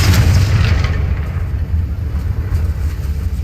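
A fiery Confringo spell explosion in the video game Hogwarts Legacy gives a loud, dense, rumbling blast that rolls on for a few seconds with no talking.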